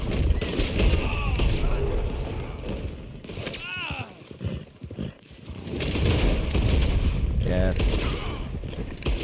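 Gunfire in the Western video game Red Dead Online: several sharp shots with ringing, whistling ricochet-like tails crack out in two clusters, with a quieter gap between them and constant game ambience underneath.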